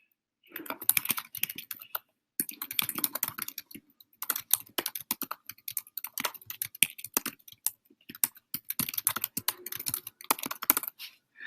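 Fast typing on a computer keyboard, with dense bursts of crisp key clicks close by, broken by a few brief pauses.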